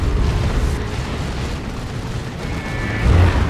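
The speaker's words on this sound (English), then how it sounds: "There's the warp fire as well." A warp fire ability explodes in Dawn of War 2 amid the constant rumble of a 3v3 battle, with booming blasts and a louder burst near the end.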